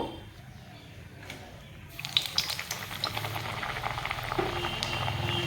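Puri deep-frying in hot oil: a steady bubbling sizzle that starts quietly and swells to a loud crackling fry once the dough goes in, with faint kitchen clatter.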